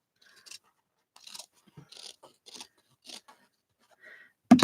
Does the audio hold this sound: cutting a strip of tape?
yes